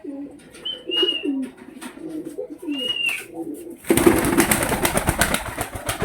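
Pigeons coo in repeated soft, throaty phrases at close range, with a few brighter calls mixed in, before a sudden burst of louder rustling and flapping noise takes over the second half.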